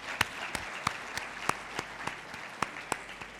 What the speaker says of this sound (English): I think we can have a round of applause for all of us.